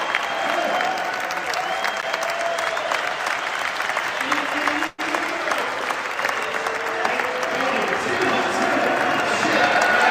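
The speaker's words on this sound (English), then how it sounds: "Mike Vrabel got a slow clap, standing ovation" A crowd applauds steadily for a coach, with dense, sustained clapping and a loud roar that carries on throughout, briefly broken once midway.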